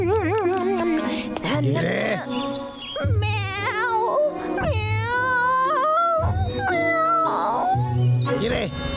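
A cartoon cat meows repeatedly in drawn-out, wavering cries, loud and close, with a voice performing the meows mixed with speech-like sounds.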